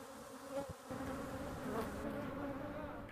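Honeybees buzzing steadily at close range, a dense continuous hum with no voices.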